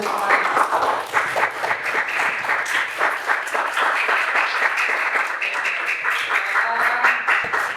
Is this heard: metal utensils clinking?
no